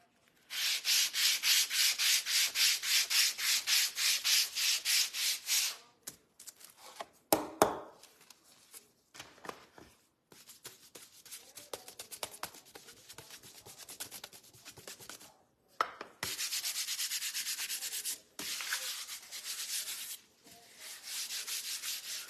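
A wooden craft-kit piece is sanded by hand with 120-grit sandpaper, heard as rhythmic rasping strokes close up, broken by pauses and handling knocks.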